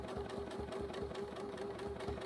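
A sewing machine stitches along a quilting ruler, a quiet, fast, even mechanical chatter with regular needle beats and a steady hum.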